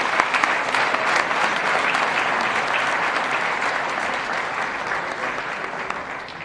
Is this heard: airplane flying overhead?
no